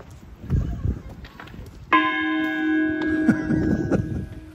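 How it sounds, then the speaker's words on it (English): A big old bell at Brixham harbour struck once, a loud metallic clang that rings on with a long sustained hum, amid outdoor ambience. "There's this big old bell here."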